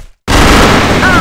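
After a brief near-silent moment, a USP pistol fires in a shooting video game via a Razer mouse macro, a sudden loud burst that rings on with dense noise for the rest of the moment.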